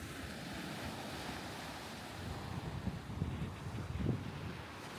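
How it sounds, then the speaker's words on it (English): Ocean waves wash onto a small beach at full high tide, a soft, steady surf rumble mixed with wind noise on the microphone, with a slightly stronger wave surge near the end. "We've come to the beach, but the beach is very small. It must be full high tide."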